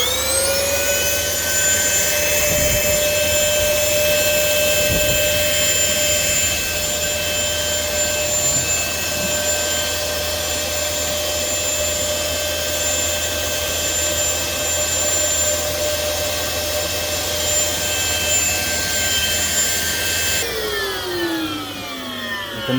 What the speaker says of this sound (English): we're just going to give that a good vac out and get rid of all that